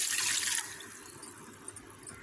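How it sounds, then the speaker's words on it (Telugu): Water from a glass poured into a pan with sugar, a short gushing splash that stops quickly and leaves faint clinks and small sounds. "గ్లాస్తో గ్లాస్ వాటర్ పోస్తున్నాను."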